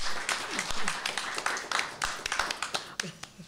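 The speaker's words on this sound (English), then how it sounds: "now you can clap" An audience at a panel discussion on activism applauds to welcome a panelist, a steady, fairly close patter of many hands clapping with some scattered voices beneath.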